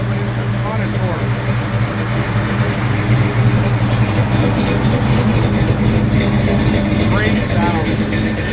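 A 1971 Buick Gran Sport V8 revs steadily and loudly up close, a deep throbbing engine note with slight swells, while someone talks over it.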